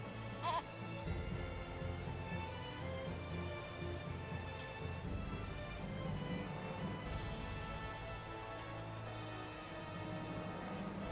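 A goat bleats in an Eternal Sonata video game cutscene, set against a continuous, even bed of game music and ambience, with a sharper burst near the start and another around the middle.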